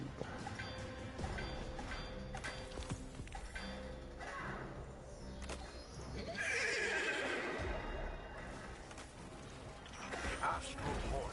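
A horse neighs in the video game Destiny 2, a whinny rising out of game music and mechanical effects, loud and close amid busy background sound.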